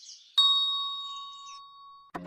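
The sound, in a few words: doorbell ringing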